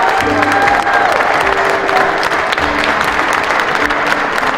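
Loud, dense applause fills the room after a speech about road deaths and changing driver behavior, a crowd clapping continuously with faint tonal background sounds underneath.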